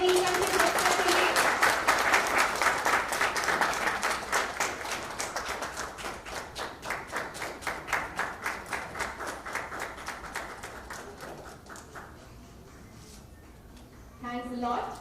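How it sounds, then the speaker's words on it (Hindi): A room full of people claps steadily at a poster launch for a mythological Broadway musical, loud at first and gradually thinning over a dozen seconds, with a voice cutting in at the end. "जोरदार तालियां हो जाएंगी ईशान के बच्चों के लिए।"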